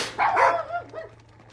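Cartoon dogs crated below deck on a cruise ship give a short burst of a few barks and yips, fairly close and alone with no talking over them.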